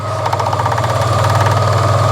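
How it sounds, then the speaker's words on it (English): MG ZT 190 KV6 engine idling with a knocking rattle from the radiator fan, a steady low hum carrying a fast, even clatter throughout, close and fairly loud. "That rattles the radiator fan knocking."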